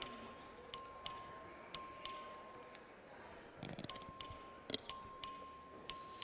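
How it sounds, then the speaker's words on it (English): Voting bell in the Texas House chamber, rung by the clerk: a series of bright, sharp electronic ding tones about once a second, each decaying quickly, over a soft hum of room murmur, with a brief busier stretch of chamber noise midway. "The clerk will ring the bell."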